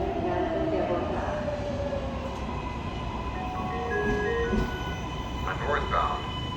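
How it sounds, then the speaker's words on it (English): A MARTA metro train approaches West End station with a rumbling roll and squealing tonal whines from wheels and brakes, while a public-address voice speaks over the platform. "Tren lineal Uruguay Sur se aproxima a la estación."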